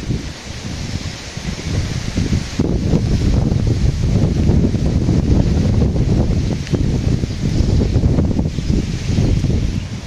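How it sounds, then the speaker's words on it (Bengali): Strong wind gusts ahead of rain under a darkening sky, a steady broadband roar with rustling and buffeting that swells and eases across the clip, loud and close with no talk. "বাতাস ছাড়ছে, বাতাস আসছে প্রচুর"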